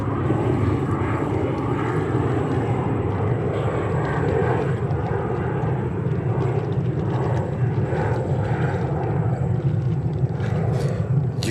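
Delta Connection Embraer 175 jet taking off at New York JFK airport, a continuous loud engine roar and rushing wash that holds steady throughout, heard alone without talking.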